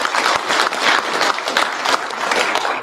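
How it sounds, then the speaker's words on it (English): Steady applause from an awards-ceremony audience at a drag racing awards event, a dense, even patter of many hands clapping, fairly loud with no voices over it. "Round of applause for him"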